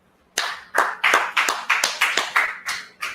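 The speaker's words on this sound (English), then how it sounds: "go ahead and clap it up" Slow, deliberate hand clapping from a small group, about ten separate loud claps in an even rhythm roughly every third of a second, close and without talk.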